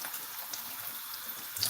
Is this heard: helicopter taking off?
no